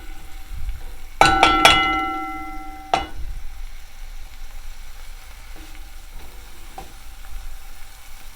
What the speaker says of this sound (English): when I'm cooking out my sofrito here